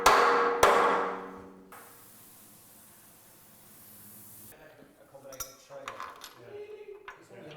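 Metallic strikes on a Triumph TR4 chassis during straightening, two loud ringing clangs up front, then a long hiss and scattered clinks and knocks in a workshop.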